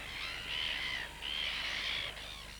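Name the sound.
red-billed gulls calling at a nesting colony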